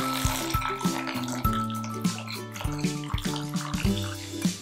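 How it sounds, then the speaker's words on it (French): Beef bone broth pours through a filter with a steady liquid splashing and trickling, broken by repeated clinks and knocks of utensils against the pot or strainer, close and fairly loud with no talk. "Je le filtre pour enlever les miettes de viande."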